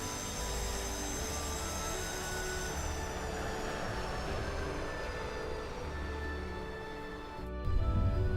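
Douglas DC-9-32 airliner touching down on a runway in a flight simulator game, a steady loud roar of engines and rolling noise throughout with whining tones, then a brief thump and rumble near the end.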